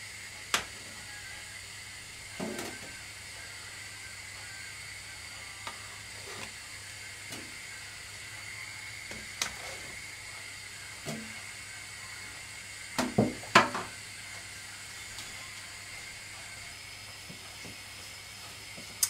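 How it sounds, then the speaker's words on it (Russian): A pot of water with pork trotters for aspic comes to the boil, hissing and simmering steadily with a constant steamy rush, broken by occasional faint pops and ticks. "После того, как вода закипела,"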